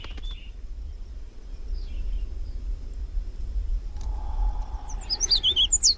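Mockingbirds on the Galápagos Islands give short chirps and a brief burst of bright calls near the end, over a steady low rumble of wind or surf. No one speaks.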